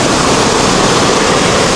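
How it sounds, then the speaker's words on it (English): Cold river water flowing in a steady, loud rush of broadband noise, close by and continuous with no voices. "It's a beautiful cold water. It's a kind of river."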